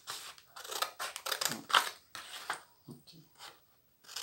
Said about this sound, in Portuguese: Agora é só cortar.